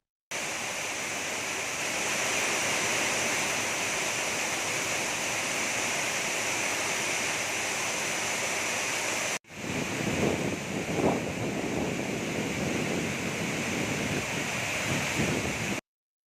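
Thirparappu waterfall in flood after heavy rain, a loud, steady roar of rushing water that holds constant, with a break partway through and then rougher, gustier turbulence.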